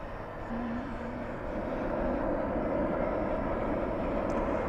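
A Qantas airliner pushing back at night at DFW airport, its engine noise a broad steady roar that swells slightly, heard from a distance with no talking.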